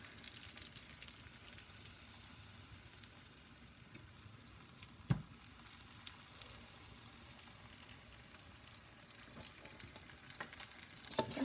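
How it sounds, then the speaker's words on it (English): Runny pancake batter sizzling in a hot frying pan, a faint continuous crackle with a soft clatter midway and no talking. "the pan is ready for the last batch. I'm going to go ahead and place my batter in."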